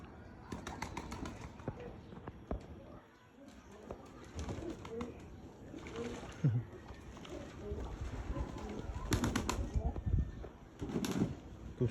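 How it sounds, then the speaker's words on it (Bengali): Pigeons bathing outdoors in sunny weather, with soft cooing and bursts of wing flapping and splashing scattered through the scene at moderate distance. "খুব সুন্দর করে কবুতরগুলো গোসল করতেছে।"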